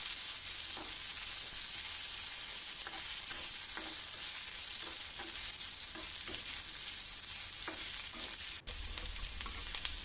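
Pirandai (adamant creeper) sautéing in a pan, a steady close sizzle with light scattered stirring scrapes throughout and one brief sharp click near the end.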